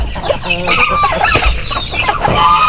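Loud turkey gobbling and clucking close by, several birds calling over one another in a busy, continuous flurry.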